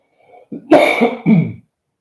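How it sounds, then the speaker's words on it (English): A single close, loud fit of coughing, a few harsh bursts in quick succession with throat clearing, then silence. "Excuse me while I cough."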